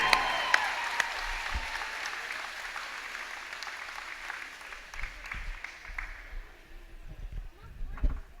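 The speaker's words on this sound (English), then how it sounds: "So please thank her for her hard work with your applause." Crowd applause in a high school gym at a girls basketball game, a broad steady clapping that fades gradually, with low thumps and scattered noise toward the end.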